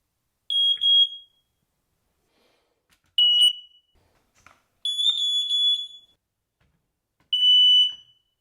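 A ceiling smoke alarm being tested gives four loud, piercing electronic beeps, each about half a second to a second long, separated by short gaps of silence in a quiet room.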